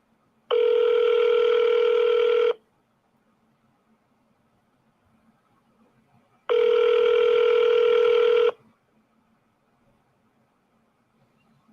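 A telephone call rings out unanswered, two long electronic ring tones about two seconds each separated by a few seconds of quiet line hiss.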